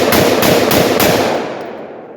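A 7.5 inch AR-15 fires a rapid string of four loud, close gunshots. Each muzzle blast comes as a hard crack, and the last one rings out in a long fading echo.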